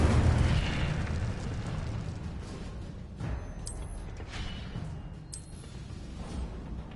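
Fiery Incendio spell blasts in a Harry Potter-style schoolboy game, a sustained roaring whoosh with a heavy low rumble that slowly fades, punctuated by a couple of brief bright crackles.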